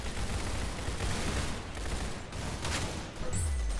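Gunfire in the Roblox game Arsenal, a dense, steady barrage of shots running nearly the whole time at close range with no talk over it.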